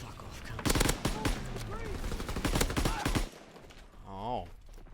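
Rapid machine gun fire in Call of Duty WW2, a dense close burst of quick shots lasting about three seconds, followed by a brief rising tonal game sound.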